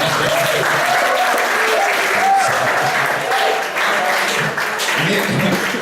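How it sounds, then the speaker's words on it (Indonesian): Steady, loud applause from an audience at a spiritual-skills lecture, with voices and calls heard over the clapping. "tepuk tangan buat kita semua"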